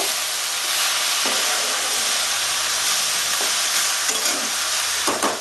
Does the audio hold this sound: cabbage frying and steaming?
yes